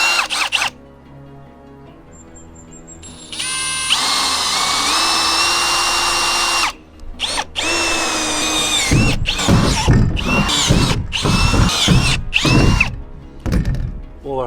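Power drill boring four holes for roof skylight supports, the bit whining steadily for several seconds, then choppier bursts of drilling with clunks and handling noise between runs, close and loud.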